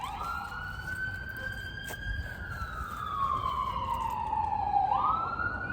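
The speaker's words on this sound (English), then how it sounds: "You can hear the sirens in the background." Emergency vehicle sirens wail in the background at a burnt-down UFO welcome center in Bowman, South Carolina, rising and falling in steady sweeps over a low outdoor rumble, with no talking.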